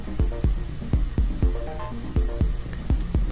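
A wood lathe spins a laminated pallet wood blank as it is turned into the round, a steady motor hum broken by regular rhythmic thumps about every half second, loud and close.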